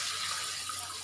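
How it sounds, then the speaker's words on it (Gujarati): Water being poured into a cooking pan while preparing moriya khichdi, a steady close splashing pour that fills the whole second with no talk over it. "પાણી એડ કરીશું।"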